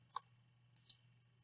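A computer mouse clicks on a web page search button: one crisp click, then two more in quick succession, sharp and close against a faint background hum.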